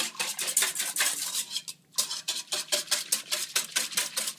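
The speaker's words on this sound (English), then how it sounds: "And you just want to whisk this until all of the sugar is dissolved." A whisk beats sugar into a vegan cake batter ice cream base in a bowl, with quick rhythmic metallic clinks and scrapes close by and one brief pause.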